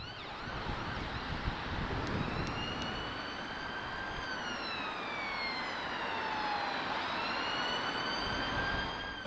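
An emergency service vehicle's siren wails through traffic, its rising and falling tones fairly faint and distant over steady road and wind noise, no talk heard.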